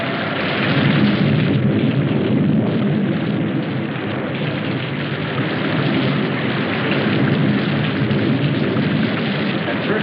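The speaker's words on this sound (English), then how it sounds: "We didn't pay much attention to the rain, though it seemed heavier than any rain we'd ever seen." Heavy rain with thunder in a 1968 sci-fi film roars steadily and densely with no pauses, loud and close, with a dull low rumble underneath.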